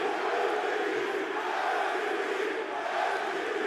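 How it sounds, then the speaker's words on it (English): A Call of Duty League championship arena crowd chanting MVP for an Optic player, a dense, steady roar of many voices filling the space without a break. "they were chanting MVP"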